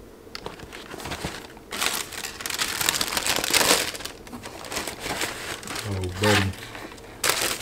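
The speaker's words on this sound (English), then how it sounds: "As y'all can see, we got the little Vision wrapping paper." Wrapping paper crinkles and crumples steadily during the unboxing of New Balance Vision Racer sneakers, close and fairly loud, while someone talks briefly over it.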